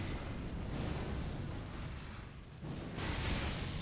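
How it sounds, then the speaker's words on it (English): Huge explosion in the video game Dark Souls 3, a loud, sustained roaring blast of broadband rumble that dips briefly and then surges again, filling the whole stretch with no voice over it. "Oh, wow, that explosion is huge."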